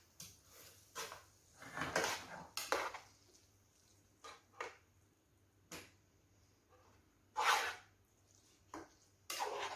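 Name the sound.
serving curry and rice onto a plate with cutlery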